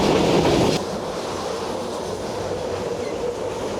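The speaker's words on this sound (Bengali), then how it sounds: "চাঁদনী এক্সপ্রেস কিন্তু এখন ঝড়ের গতিতে চলে চলেছে," Express train speeding along rails in Bangladesh, heard from on board as a steady loud rumble and rush of wheels, with a brief louder burst at the start before settling into a continuous roar.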